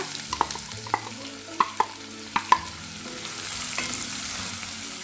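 Two finely chopped onions stirred in a pan for an okra and coconut thoran: sharp spoon scrapes and knocks in an uneven rhythm over a soft frying sizzle that swells toward the end, close and alone without talk.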